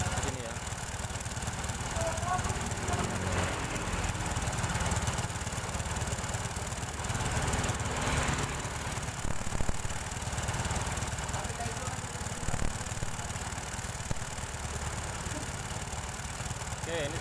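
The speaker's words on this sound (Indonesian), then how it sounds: "ini sudah berjalan 2 menit tanpa mati motornya" A Honda Supra 125 motorcycle idles steadily and continuously, its engine humming loud and close for a long stretch, with a voice speaking over it.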